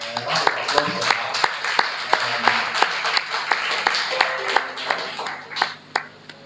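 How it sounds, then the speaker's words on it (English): Audience at a history society colloquium clapping for a young student panelist; a lively round of hand claps with distinct sharp strikes continues for several seconds, with some voices mixed in. "Round of applause for her"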